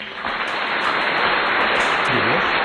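Schoolchildren applaud a classmate guest arriving for a classroom interview, a dense continuous patter of clapping from a nearby group that holds steady throughout.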